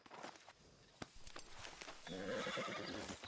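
A horse in Red Dead Redemption 2 gives a quavering whinny near the end, after soft hoof clops and scattered taps, all heard close.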